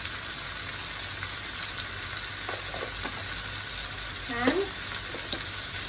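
Spices and cashew nuts stir-frying in a pan give a steady close sizzle, with light scrapes of the spatula and a faint word spoken over it.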